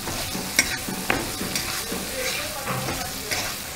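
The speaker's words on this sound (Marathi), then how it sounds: "पेस्ट तेलावर चांगली अशी परतवून घ्यायची" Onion bhaji masala paste with oil and chopped raw mango sizzles in a pan, with a soft, steady fry and intermittent clicks and scrapes of a spoon stirring, close and fairly quiet.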